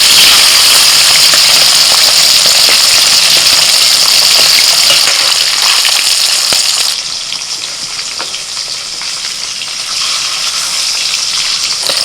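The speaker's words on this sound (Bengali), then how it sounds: "ইলিশ মাছ বেশি ভাজবো না জাস্ট এদিকে উল্টে হালকা করে ভেজে তুলে নেব" Steady, loud sizzling of hilsa fish frying lightly in hot oil, a dense crackling hiss throughout that drops slightly in level partway through.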